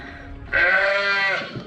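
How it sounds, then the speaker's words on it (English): Farm sheep bleating for cake feed, a single loud, drawn-out bleat rising after a quieter start and holding for close to a second, heard close up with no talk over it. "sheep are making a noise, sheep are wanting cake"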